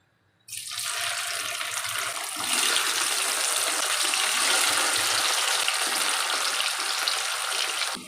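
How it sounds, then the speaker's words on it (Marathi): Boiled potato pieces drop into hot oil for deep frying, setting off a sudden, loud, dense hiss that swells after a couple of seconds and holds steady. "आता आपण असेच बाकीच्या बटाट्याच्या फोडी या तळून घेऊया"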